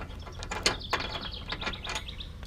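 A ratchet wrench loosening the 15mm bolts that hold the lower skid plate on a Jeep JK Unlimited Rubicon, a run of quick close clicks with a few sharper knocks, fairly quiet over a low background hum.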